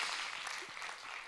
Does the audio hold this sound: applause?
yes